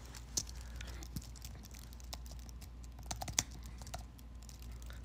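Fast, uneven typing on a Bluetooth keyboard, a patter of light key clicks with a few sharper strikes, close and fairly quiet, no voice.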